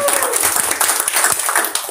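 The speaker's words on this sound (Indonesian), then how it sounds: "Ayo boleh tepuk tangannya untuk memuliakan nama Tuhan." A church congregation at a Christmas service claps hands together in a quick, dense burst, close and fairly loud throughout the short stretch.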